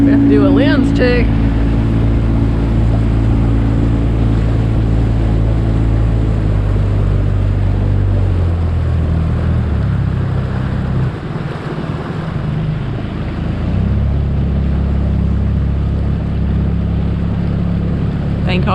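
Steady motorboat engine drone on a crabbing trip, rushing wind and water noise throughout, loud and close, with a brief dip partway through.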